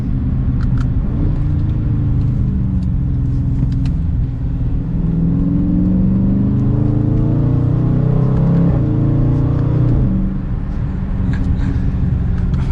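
A 2021 Dodge Charger 392 Scat Pack cruises along, its engine a deep, steady rumble heard from inside the cabin, rising gently in pitch and then easing off, with no talk.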